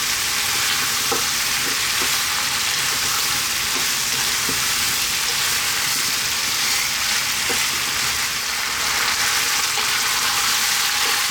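Potatoes and fresh chili sizzling in a pot for Indian-style goat curry, a steady loud frying hiss with occasional scraping stir clicks, no voices.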